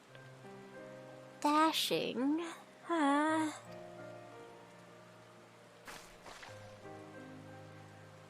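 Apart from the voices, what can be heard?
rain falling in the video game Final Fantasy XIV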